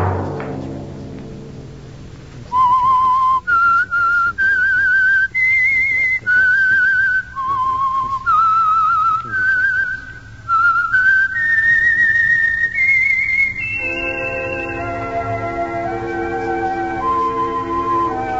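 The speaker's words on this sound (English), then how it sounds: "Let that whistle be your signal for the Signal Oil program" A loud, clear whistled signal melody opens a classic mystery radio program: a sequence of sustained, pitch-shifting notes in a steady phrase, then a held whistled tone leading into orchestral accompaniment.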